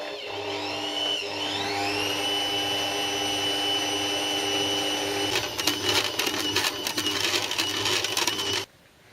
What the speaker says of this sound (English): So now this dough has been mixing in the baking machine for about 4 or 5 minutes